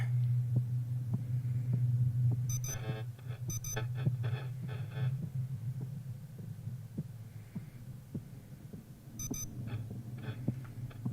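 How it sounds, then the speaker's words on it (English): A small electronic device that doubles as a light gives several short, sharp beeps, spaced irregularly, over a low steady hum and faint ticking pulses. "It is beeping."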